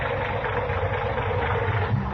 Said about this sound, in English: that engine of yours sounds like real tired iron